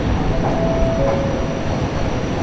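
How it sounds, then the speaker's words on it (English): A modern Glasgow Subway train rumbles steadily and loudly through an underground station, a dense continuous roar with a faint thin squeal of wheels partway through. "The new modern trains as seen here are a big improvement on the old ones"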